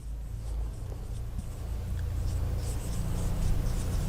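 A marker or chalk scratching across a classroom board in a continuous rubbing stroke over a low steady room hum, with no speech over it.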